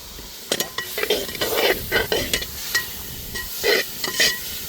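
Spices and tomato frying in oil for a jasmine rasam, with near, loud sizzling bursts and repeated stirring scrapes of a utensil in the pan, no talking.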